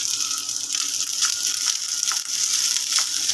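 Leftover rice and carrots frying in a pan, a steady close sizzle with faint scraping stirs running throughout, no talking.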